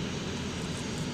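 A Boeing 737-400 jet at Worcester airport gives a steady, fairly loud engine roar that holds constant throughout, with no voices over it.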